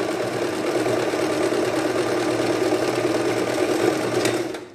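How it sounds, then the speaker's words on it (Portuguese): Sewing machine stitching a zigzag seam on a child's bomber jacket, a loud, fast, steady mechanical whirr running close and continuous before stopping abruptly at the end. "essa parte a gente tá fazendo um zigue-zague, porque é uma parte que vai ser forçada"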